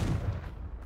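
A Confringo spell explodes in Hogwarts Legacy, a short, heavy, booming blast that decays quickly, loud and low-pitched, with no one talking.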